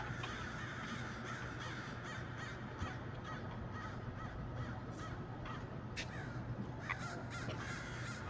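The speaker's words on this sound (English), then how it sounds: "Release the crows. Release the crows!" Crows caw repeatedly over a dense, steady background hum, their calls spaced irregularly and fairly distant.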